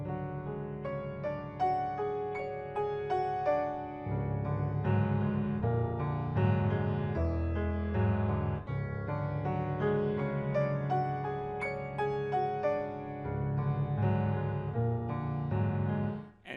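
Solo piano playing a soft, eerie passage from a Debussy prelude, "Les sons et les parfums tournent dans l'air du soir," with layered sustained chords and quiet shifting low notes, without speech.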